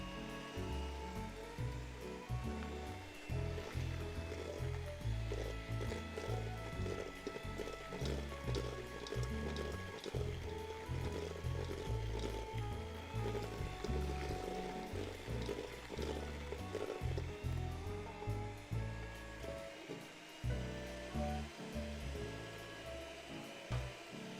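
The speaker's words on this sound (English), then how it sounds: "You want to keep your mixer on the entire time because you don't want your eggs to be scrambled" An electric mixer runs continuously while eggs are beaten into butter and sugar for chocolate chip cookie dough, a steady whirring hum with rhythmic bowl-scraping pulses throughout, fairly quiet and with no talking.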